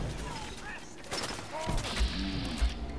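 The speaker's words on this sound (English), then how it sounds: "who the hell's shooting at you?" Gunfire in the game Fallout 4: scattered shots and mechanical clicks against a busy game backdrop, with a couple of louder thumps near the end and a voice in the mix.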